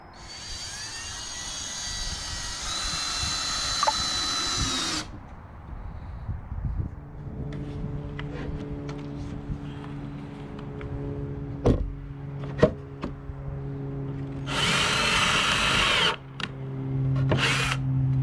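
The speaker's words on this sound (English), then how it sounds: "You've already drilled, so." A power drill whirs in short loud bursts while drilling into a wooden slat platform being fitted in the trunk of a Subaru Ascent camper conversion, with steady engine-like drone and clattering handling noise between bursts.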